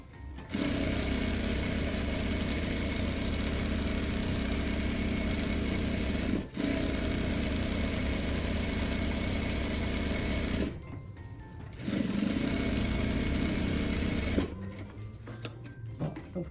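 A sewing machine runs a safety seam around the lining of a maternity bag, droning steadily and close in long continuous runs broken by two short pauses, with no voices.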